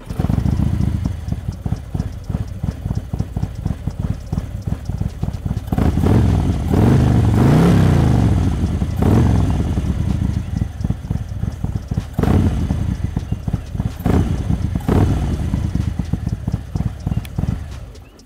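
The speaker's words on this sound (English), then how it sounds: "here, listen to the exhaust" A Harley-Davidson Road Glide motorcycle revs its exhaust nearby, deep throbbing engine pulses swelling into several loud revs and settling back to a lumpy idle between them.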